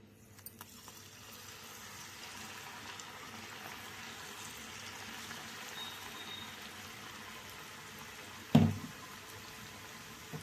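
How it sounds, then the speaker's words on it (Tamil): Idli batter is squeezed into hot oil in a kadai and fries with a quiet, continuous bubbling hiss, punctuated near the end by a single close clank. "அடுப்பில் கடாய் வச்சு எண்ணெய் போட்டு இதை அப்படியே புழிஞ்சு விட்டுக்கலாம்"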